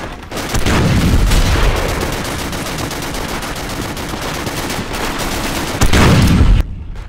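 Gunfire in the World War II video game Darkest Hour, dense close rifle and machine-gun bursts in a continuous loud barrage with sharp cracks, ending abruptly.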